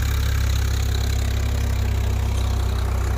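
A Swaraj 855 4x4 tractor pulling a cultivator through a field gives a steady, loud, low engine drone that holds evenly without any voices.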